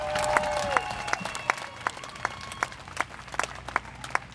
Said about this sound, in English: Give a great big round of applause to the people who put this on.